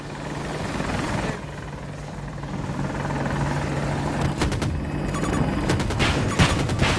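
Apache attack helicopter in Battlefield 2042 conquest gameplay, its rotor thrumming steadily and close throughout, with bursts of gunfire and booms crackling in toward the end.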